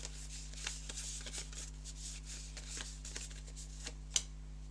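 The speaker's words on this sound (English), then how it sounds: "we shuffle that back in again" Cards are shuffled during a tabletop board game play test, a series of soft rapid riffling bursts and taps at close range over a low steady hum, ending with one sharper snap.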